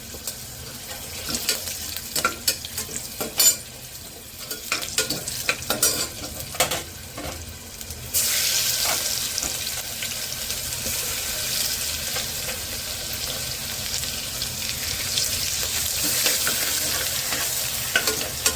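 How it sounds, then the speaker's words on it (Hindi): Crushed garlic hits hot oil with red chilies in a dal tempering, a clattery stirring giving way to a loud steady sizzle that continues to the end. "और ये हमने लहसुन डाल दिया।"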